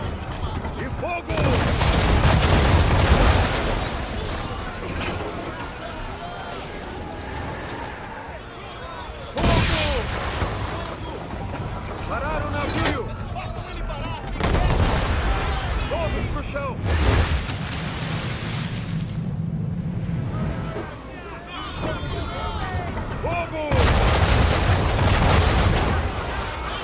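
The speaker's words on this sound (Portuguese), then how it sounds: "Atirar canhão!" Cannon fire from a sailing ship in the video game Assassin's Creed III booms in repeated loud volleys separated by short lulls, with rumbling battle noise and voices in between.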